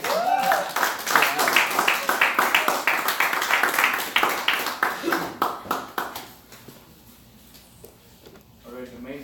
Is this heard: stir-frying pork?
no